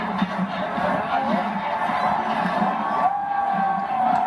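Stadium crowd at a Michigan college football game cheering steadily, a dense roar of many voices that stays at a fairly constant level throughout, with a few shouts and whistles rising above it.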